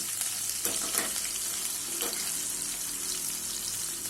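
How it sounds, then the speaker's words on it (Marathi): Chivda ingredients, including green chillies, fry in hot oil with a continuous crackling sizzle, close and steady, with occasional stirring scrapes. "व्यवस्थित तळून घेणार आहे आपण."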